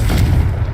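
A Confringo blast spell in Hogwarts Legacy goes off as a single loud, deep, booming explosion with a rumbling low body.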